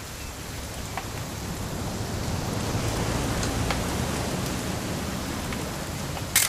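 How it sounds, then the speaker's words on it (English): Steady rain falls in the video game What Remains of Edith Finch, a dense, even hiss of drops that holds at the same level throughout with no voices, ending in a brief louder burst at the very end. "It's gonna rain the whole weekend, isn't it?"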